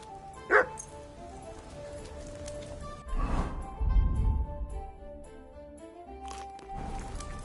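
Mutt, a dog in Kingdom Come: Deliverance II, gives a short yip early, then low whimpering and soft barks amid quiet game ambience.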